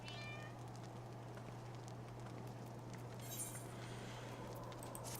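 Cat meowing in the video game Final Fantasy XIV, faint mewing calls set against a steady low hum and background game ambience.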